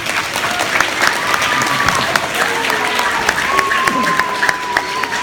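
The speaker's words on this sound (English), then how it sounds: "Let's give that a round of applause." Loud, sustained applause from a school audience, dense clapping throughout with some voices and a faint tonal hum mixed underneath.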